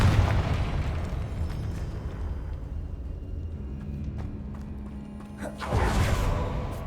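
The Confringo fire spell goes off in the video game Hogwarts Legacy, a dense rumbling blast that churns steadily and then swells into a second burst near the end.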